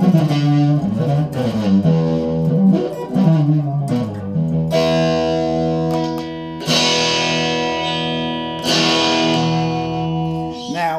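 G&L Legacy Tribute Stratocaster electric guitar on its neck pickup, playing a clean, warm run of sustained notes and chords with effects, close and steady, with no talking.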